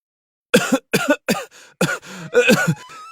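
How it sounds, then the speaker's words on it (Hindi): A man coughs from smoke in a quick series of harsh, close bursts, then breaks into a hoarse, sputtering fit. "मंत्री जी खांसने लगते हैं।"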